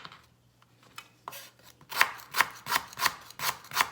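A knife chops lemongrass stalks on a board for a Cambodian green curry, starting with a few scattered cuts and then settling into a steady run of crisp, close, evenly spaced chops.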